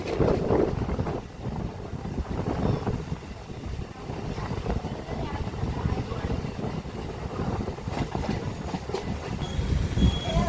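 MMTS local train departing RK Puram railway station on the Lingampally–Medchal line, a steady loud rumble of wheels and carriage throughout, with wind buffeting the microphone and no clear speech.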